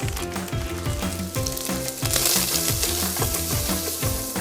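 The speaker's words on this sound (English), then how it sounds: "Drop in the second batch of these little balls and get these browning as well." Small sausage balls browning in a hot pan with rendered fat, a loud steady sizzle and crackle of frying that swells midway, with faint rhythmic clinks underneath.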